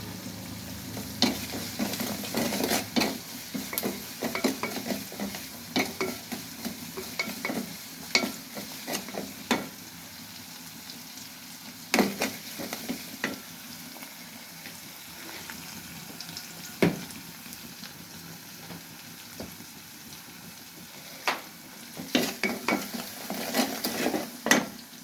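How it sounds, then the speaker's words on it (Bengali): Small bata fish frying in a pan, sizzling steadily while a utensil stirs and scrapes, with bursts of clinks and clatter throughout and no voices. "একটু ভাজা ভাজা করবো।"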